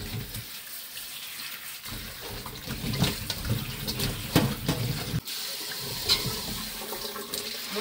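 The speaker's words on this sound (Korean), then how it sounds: "일단은 물에다가 깨끗이 씻어서 맛있게 만들어 볼게요." Field-grown cucumbers are washed by hand in water in a kitchen, producing irregular splashing and swishing with brief pauses and louder sloshes, and no voices are heard.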